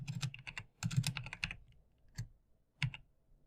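A search query is typed on a computer keyboard: a dense flurry of close clicks, a short pause, then a few isolated keystrokes spaced apart, all quiet and without voices.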